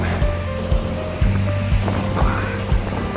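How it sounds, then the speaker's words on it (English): Ashgill Force, a small waterfall, sends up a steady rushing roar of falling water that holds throughout, with soft footsteps or thumps from a nearby walker on a muddy path. "Nice little waterfall up."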